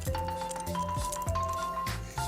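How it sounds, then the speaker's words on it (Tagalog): Milk poured into eggs as they are mixed for scrambled eggs, with short wet squishing and dripping sounds and a few light clinks, close and quiet in a brief burst. "hahaluin muna at ilalagay na yung gatas"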